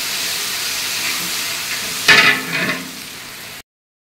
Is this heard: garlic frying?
yes